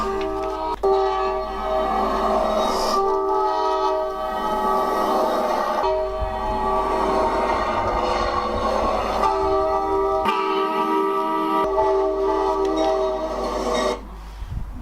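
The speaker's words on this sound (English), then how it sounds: "you get used to the train noise after a while" A train rumbles past close by, its horn sounding in long sustained blasts over the heavy rolling noise of the cars, loud and continuous for the whole stretch.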